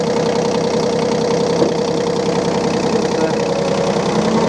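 Yanmar KE-3 small diesel tractor running steadily up close, an even rhythmic knocking chug with constant loudness as it pulls away, no voices present.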